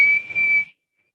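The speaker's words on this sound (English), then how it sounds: "Susan blew her whistle to let Captain John know that the grub was ready" A whistle blown once in a steady, shrill tone lasting well under a second, with a slight dip partway through, loud and close before cutting off.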